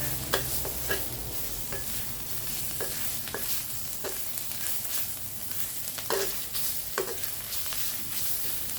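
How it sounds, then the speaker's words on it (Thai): Thai curry paste being stir-fried in a pan for a pork soft-bone choo chee curry: a steady, moderate sizzle with periodic scraping and clinking stirring strokes, close and without voices. "คนให้พริกแกง แตกนิดนึงมันมัน ผัดหอมๆนะคะ"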